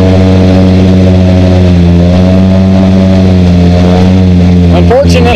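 Polaris RZR 800 side-by-side engine revving loudly and steadily in a mud pit at Sandtown Ranch, its deep drone holding close and continuous, with a brief rise near the end.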